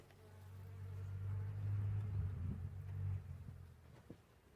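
Loud, close buzzing of many honeybees around a hive, including many drones, rising and swelling in a steady drone, with no voices.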